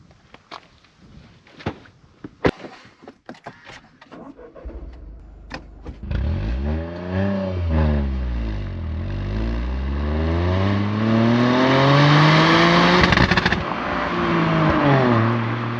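A few scattered clicks and taps, then a 2023 Toyota GR Corolla's engine cranks to life and revs up repeatedly, its pitch climbing and holding in a loud, sustained roar.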